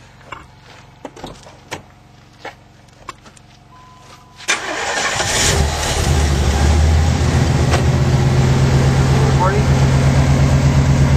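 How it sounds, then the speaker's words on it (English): The big block engine of a tow truck cranks after a few faint clicks and knocks, catches and settles into a loud, steady rumbling idle up close. "now I'm going to go fire up the big block"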